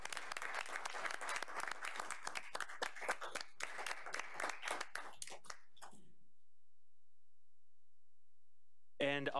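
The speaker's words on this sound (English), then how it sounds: "So let's just give him a round of applause." Meeting attendees clap for a mayor in a modest round of applause, close and crisp, lasting several seconds before stopping abruptly into silence, with a voice starting at the end.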